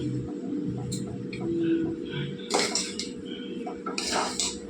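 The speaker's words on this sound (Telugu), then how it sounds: "మొత్తం సేమియాలంతా కట్టేలాగా మనం కలుపుకోవాలండి చూడండి ఇలాగంతా కలిపేసుకోవాలి" Vermicelli (semiya) being stirred with oil in a metal pan, a soft scraping and clinking of utensil against the pan with a few sharper clatters, close by, under steady low background noise and some talk.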